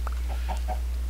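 Chickens cluck in a Minecraft-style block-building game, a few short soft clucks over a steady low hum.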